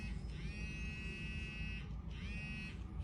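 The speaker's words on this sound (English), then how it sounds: "It's vibrating because the camera's right there." A hidden-camera detector vibrating near a camera concealed in a hotel room smoke detector gives a close, steady electronic buzz in two sustained bursts with a short gap between them.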